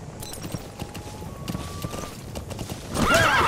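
A horse in Metal Gear Solid V: The Phantom Pain thuds along in steady hoofbeats, close and moderately loud, and ends in a sharp whinny.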